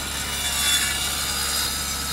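A saw blade cutting wood at a sawmill in the Sunkenland video game gives a continuous, even, hissing rasp that holds steady at moderate loudness throughout, with no talk over it.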